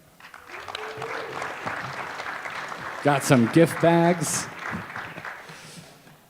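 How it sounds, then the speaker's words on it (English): An audience claps steadily for the Sharks at a student pitch competition, then someone speaks over the fading applause. "let's hear it for the Sharks"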